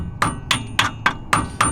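Six sharp metal hammer blows ring out at a steady, even pace during a roadside repair of a street car's parts, each strike close, loud and bright with a short metallic ring, no talk.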